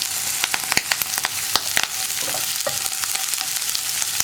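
Onion and green chillies sizzle and fry steadily in hot oil for a ridge gourd stir fry, with a continuous close crackle broken by sharp spatters and a few stirring scrapes; no one speaks.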